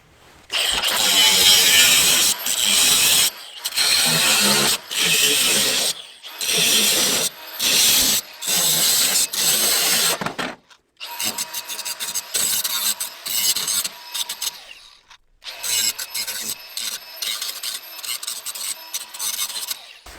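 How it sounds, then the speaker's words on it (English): A power tool cuts through a horizontal metal bar of an IBC tote cage in long loud harsh bursts broken by short pauses, then a rougher, choppier grinding in the second half. "I'm going to cut this bar, I'm going to come down here a little ways, come across horizontal"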